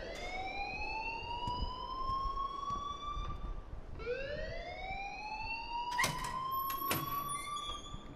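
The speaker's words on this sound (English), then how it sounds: "please turn off that alarm since that's your job" A wailing electronic alarm blares in the video game Life is Strange, two long rising sweeps repeating steadily, loud and close, with sharp clanks near the end.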